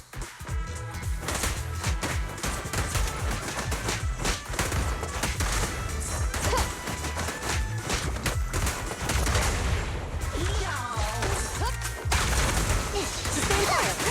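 Dense, continuous bursts of gunfire and impacts from the action video game Zenless Zone Zero, loud and rapid throughout with crashing hits layered in.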